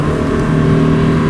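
Engine of a Subaru Forester Sport revving loudly and steadily, a close, sustained drone with no talk over it.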